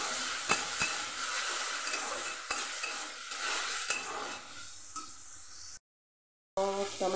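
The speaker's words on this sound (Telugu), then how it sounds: "సో టమాటీ పీసెస్ని కూడా వేసేసుకుందాం. దీన్ని బాగా ఫ్రై చేసేసుకుందాం." Tomato pieces, onion and peas frying in a pan for Maggi noodles, a steady sizzle with a few sharp stirring clatters of a utensil against the pan, briefly cut to silence before resuming.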